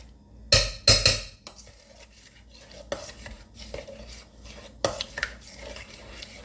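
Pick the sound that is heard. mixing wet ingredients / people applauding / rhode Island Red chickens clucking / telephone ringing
mixing wet ingredients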